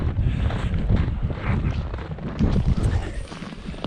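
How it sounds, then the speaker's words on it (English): Strong, steady wind during polar vortex cold, roaring and buffeting the microphone continuously with gusty low rumble and no letup. "the wind has not subsided from yesterday. It's sticking around."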